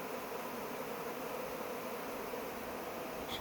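A swarm of bees fills a back yard with a steady, dense buzzing that holds at an even level throughout, with no voices present.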